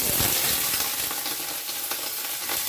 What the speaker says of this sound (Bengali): আমি বেগুন আগে ভেজে নেবো নিম বেগুন ভাজবো